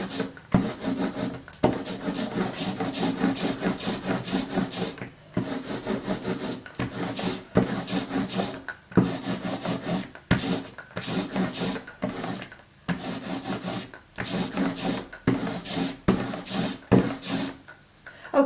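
A hand roller works printing ink across a tabletop for monoprinting, a loud, close, sticky rolling rasp in repeated strokes separated by brief pauses.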